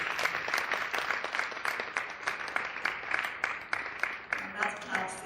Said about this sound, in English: Shall we just clap for one another?